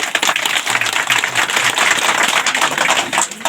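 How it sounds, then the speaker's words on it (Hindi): A group of people at a community gathering clap their hands together, a dense and loud burst of rapid overlapping claps that keeps going steadily throughout. "ताली बजा दो एक बार।"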